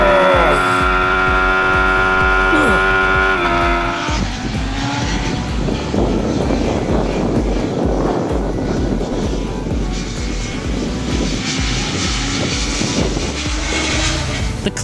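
A BMW S1000XR sport-touring motorcycle engine accelerating hard, starting with a rising tonal whine, then swelling into a loud, steady roar mixed with rushing wind that holds for the rest of the run.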